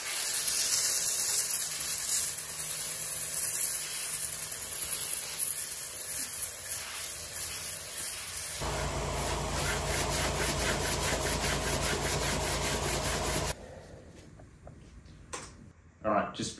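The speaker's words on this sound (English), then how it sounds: "Sand them." Abrasive rubbing and sanding on a surfboard repair, a continuous close scratchy hiss that shifts in tone midway, then stops, leaving quieter handling sounds, with talking partly underneath.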